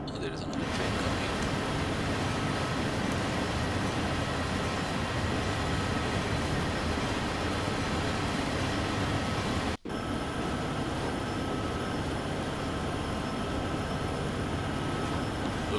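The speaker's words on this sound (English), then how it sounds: "There is another train coming." In Train Sim World 4, an approaching train makes a constant loud rumble and roar that fills the whole stretch, with one brief dropout partway through.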